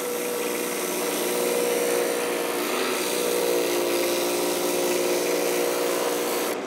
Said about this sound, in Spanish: Ahora vamos a pulir la pieza para poder armar la pata.